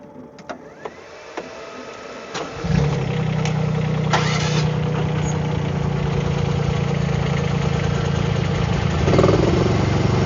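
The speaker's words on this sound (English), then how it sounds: "we're gonna start the engines" Ripa R15 and R10 engines crank and catch after a few clicks and knocks, then settle into a steady, continuous idle that swells slightly near the end, close by with no talking.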